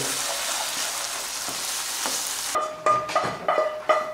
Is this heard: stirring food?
yes